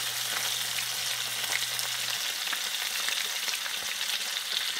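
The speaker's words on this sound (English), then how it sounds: "I'm going to take the steak, tilt in the pan, put that over the side. That's going to kind of sear those edges up." Steak edges sear in a Le Creuset grill pan, giving a steady, close, dense sizzle and crackle that holds at an even level throughout, with no voices.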